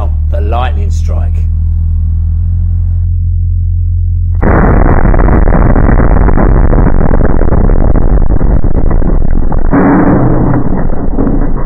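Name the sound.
simulated lightning strike surge hitting an electrical consumer unit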